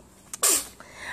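A baby gives a single sharp sneeze, close and loud, with a short breathy lead-in just before it.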